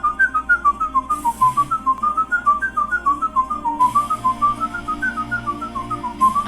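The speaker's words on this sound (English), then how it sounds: "This is insane, the whistling." A whistled melody of quick, bright, wavering notes runs continuously as a performance played back from a video, with faint background accompaniment beneath it and no talking.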